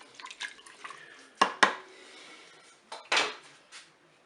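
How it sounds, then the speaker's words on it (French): A utensil stirring peeled tomatoes inside a Cookeo pot makes a few quiet scrapes and sharp clinks against the pot, in short bursts with pauses between. "je mélange un petit peu"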